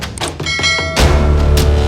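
A bright chiming notification bell rings over a few quick clicks, followed by a thump and a lingering shimmer.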